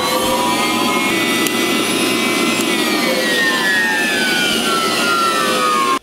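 The motor of a vacuum forming machine runs loud and steady from start to finish, a harsh, close whirring roar with no talking over it.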